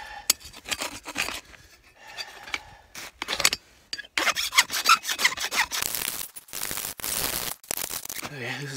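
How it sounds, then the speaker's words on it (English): A steel spoon bit is hand filed at a winter bush forge beside a small frozen lake, giving irregular, close rasping strokes with short pauses between passes. "I'm gonna keep filing away here"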